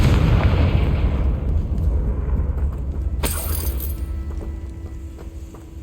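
A Confringo spell blast in Hogwarts Legacy: a heavy, booming explosion with dense low-end rumble that decays slowly, punctuated by a sharp bright burst midway, with no voices present.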